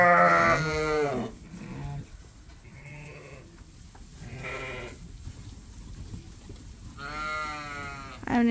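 Dorset rams bleating loudly and close by, with several long wavering calls separated by quieter gaps that are filled with outdoor noise.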